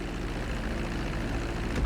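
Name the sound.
airplane engine taxiing on a runway in GTA V video game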